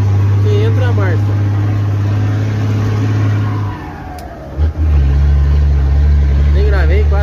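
A loaded truck hauling stone from a mine labours uphill, its engine droning loud and steady, then dropping away briefly during a gear change before pulling hard again in the new gear; voices come through faintly.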